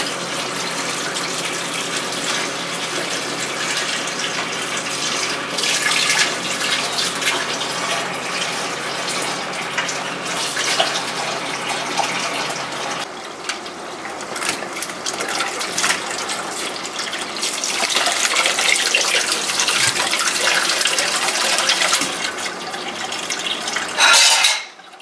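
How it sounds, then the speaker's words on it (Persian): A kitchen tap runs hard, filling a sink with water to wash mushrooms for pasta. A steady, loud splashing rush fills the whole stretch, its tone shifting as the water level rises, with faint clinks of dishes. "سینگمون رو پر آب میکنیم"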